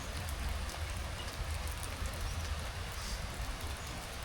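Steady rain falls outdoors, a dense continuous patter and hiss that holds at an even level for the whole span with no voices over it.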